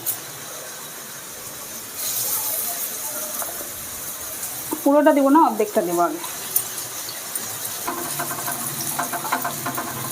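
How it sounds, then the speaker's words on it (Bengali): Okra coated in dry gram flour and rice flour sizzles in hot oil in a wok, giving a steady hiss with a louder crackling burst midway as someone talks over it. "এর মধ্যে দেখো তেল দিয়ে দিলাম আর ভেন্ডিটাকে একটু নাড়াচাড়া করে নিই"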